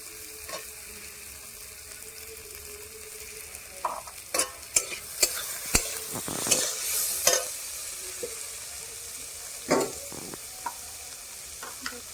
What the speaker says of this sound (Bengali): আলু আর ক্যাপসিকামগুলো একসাথে ভেজে নেব